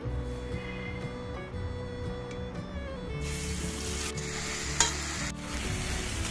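Ground cumin paste and green chilies hit hot oil in a kadai, a sizzle that swells after a few seconds beneath a low hum, with occasional spoon clinks and one sharp knock.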